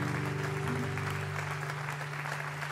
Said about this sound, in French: vous pouvez les applaudir bien fort pour les 15 ans